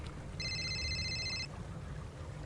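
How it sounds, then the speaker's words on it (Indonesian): In a Tobot Indonesia cartoon, a telephone gives a single bright electronic ring lasting about a second over a low, steady background hum, with no speech. "aku ada telepon."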